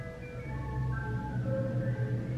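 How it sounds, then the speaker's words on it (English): Outside, an ice cream truck plays a jingle of thin, steady melodic tones that are soft and somewhat distant, over a low continuous rumble of engine or traffic. "You hear the ice cream truck?"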